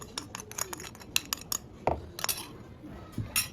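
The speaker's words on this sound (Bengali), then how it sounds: "আমার ব্যাকগ্রাউন্ডে সাউন্ড আসতেছে, গাইস একটু কিছু মনে করেন, কারণ আমার আম্মু ওইদিকে রান্না করতেছে" Clinks and taps of utensils against pots and dishes in a home kitchen while a mother cooks nearby, scattered faint, sharp knocks at irregular intervals in the background.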